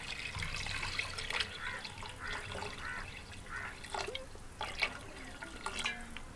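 Water pours into a pot for chicken broth seasoned with cinnamon, cloves and cumin, a steady trickling splash with bubbling, gurgling bursts, close and moderately quiet.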